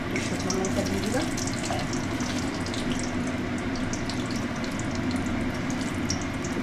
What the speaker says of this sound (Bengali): এবার এই তেলেই আমি শুকনো লঙ্কা দিয়ে দিলাম